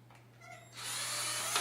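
Big heavy power drill starting up during a monster truck build, a quiet lead-in then a loud steady whirring buzz that holds to the end, close by.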